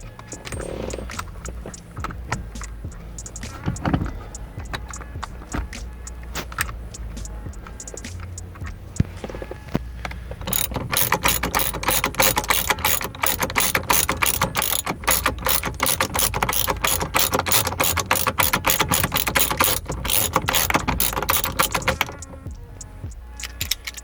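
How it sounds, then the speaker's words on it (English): Hand ratchet tightening the steering wheel bolt on a 2010–2013 Mazdaspeed 3 during a leather wheel upgrade. Scattered clicks come first, then a long run of rapid, even close-up ratchet clicks that stops near the end. "Now we got to go ahead and get the bolt. Bolt back in."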